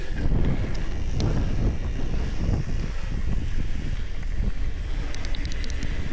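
Strong wind roars steadily across the microphone outdoors in a state park, a loud, continuous buffeting rush with no talk over it.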